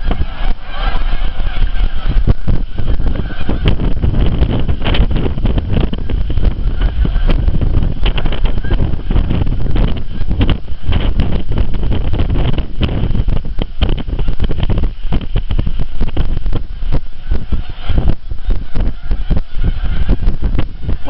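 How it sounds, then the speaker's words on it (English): Strong gusty, very cold wind on the Lake Huron shore with snow squalls, buffeting the microphone in a loud, continuous roar with rough, crackling bursts throughout. "it is very, very, very windy and very cold."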